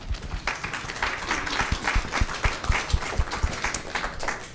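An evening event audience applauds the helpers who organised it, a steady mid-level patter of many hands with a few sharper claps standing out, continuing throughout without talk.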